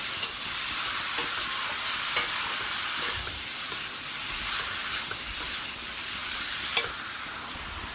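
Turmeric powder being stirred into food frying in a pan, a steady close sizzle with a few sharp spatula scrapes and taps against the pan.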